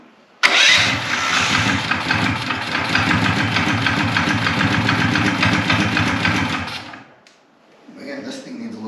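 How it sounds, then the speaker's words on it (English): A Mega Moto 212 minibike engine, on choke, catches abruptly and runs loud and rough for about six seconds, then dies away, leaving faint sounds afterward. "So I'll just give it some choke and see if it'll start."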